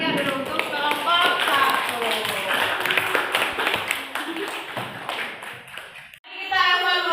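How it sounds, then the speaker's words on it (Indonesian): A school class clapping hands together for a group of classmates, dense rhythmic claps filling the room with children's voices mixed in, ending abruptly before a brief lull and more chatter. "kita beri tepuk tangan yang meriah dulu untuk kelompok"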